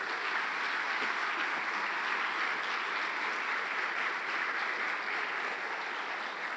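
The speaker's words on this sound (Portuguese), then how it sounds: "Você pode aplaudir Jesus?" Steady applause from a church congregation, continuous and even throughout, with no talk standing out above it.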